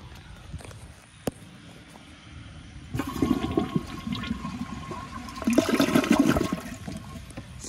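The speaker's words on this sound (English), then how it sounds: "this thing honestly has a pretty good flush" A Project Source Pro Flush toilet flushes with a sudden loud rush of water that swells, then settles into a steady swirling drain and refill, close by and alone.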